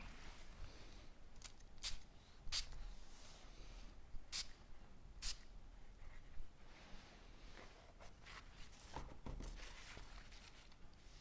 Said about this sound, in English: let's just spray this one